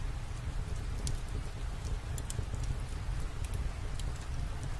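Steady rain falls outside a homestead, a dense, even patter with scattered sharper drops, continuous and close with no voices.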